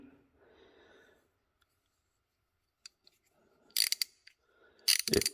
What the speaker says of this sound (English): The ratchet mechanism feels good. You can swap it back and forth.